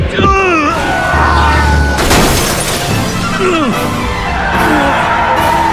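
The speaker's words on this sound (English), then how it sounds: "That motorcycle cop just rear-ended that truck." A sudden loud crash as a motorcycle rear-ends a truck, shattering, metallic impact amid engine and road noise, followed by lingering clatter and background tones.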